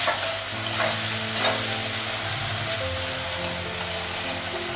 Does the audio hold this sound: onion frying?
yes